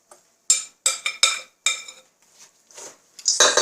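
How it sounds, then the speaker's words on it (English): A spoon clinks and scrapes against a bowl while granola ingredients are mixed, several sharp bright strikes in quick bursts, then softer scrapes and a louder rattle at the end, close up. "So we'll give all this a good mixing."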